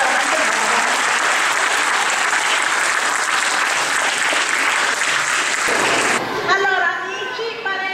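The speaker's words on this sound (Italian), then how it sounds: "Fate un applauso al ceramista" An audience at a ceremony claps loudly and steadily for the ceramist Alessandro Axe Grosso, the applause cutting off near the end as a voice begins speaking.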